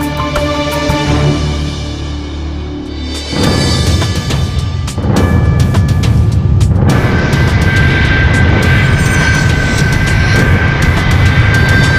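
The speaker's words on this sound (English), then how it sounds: "We saw that plane taxi in" An airplane taxiing gives off a loud, steady engine roar that swells partway through and holds, with no voices over it.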